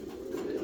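A female pigeon in heat gives a short, soft low coo, faint and close, with no other sounds around it.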